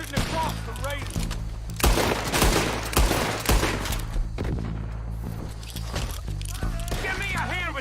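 Heavy gunfire erupts in Red Dead Redemption II during a fight with raiders, a dense barrage of overlapping booming shots under shouted character dialogue and a low droning music bed.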